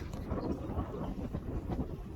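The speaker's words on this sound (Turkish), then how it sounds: "Şu an çok rüzgar var." Steady low rumbling wind buffeting a microphone on a chalcedony mountain, continuous and fairly loud throughout, with no voices.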